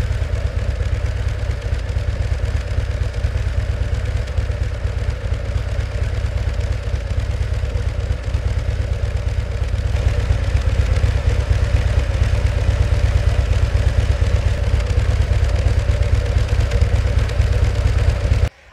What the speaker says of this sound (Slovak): na voľnobehu samozrejme aj Road Glide celkom poctivo trasie